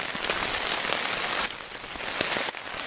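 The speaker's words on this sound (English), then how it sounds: "There's a little bit of splashback from the rain too" Heavy rain drums steadily on a tent and splashes back from the ground, a dense, continuous hiss that dips slightly in loudness partway through.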